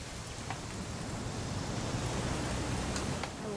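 Steady rain falls in the video game What Remains of Edith Finch, an even, moderately loud wash of dense hissing drops with no breaks and no voices.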